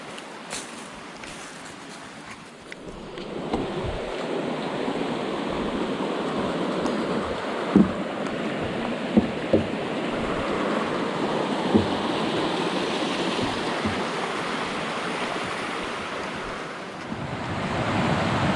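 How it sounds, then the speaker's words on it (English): Steady rushing water from a waterfall on the Appalachian Trail roars continuously, a broad dense wash of noise that swells slightly after the start, with faint gusty rumble underneath. "Yet another beautiful waterfall."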